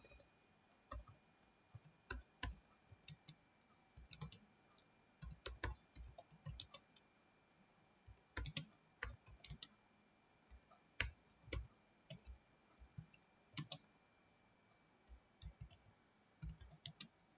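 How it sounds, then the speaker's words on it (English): Steady typing on a computer keyboard while an HTML program is written in Notepad, with quiet, close clicks in irregular bursts and short pauses, with no talking. "now we'll type the program"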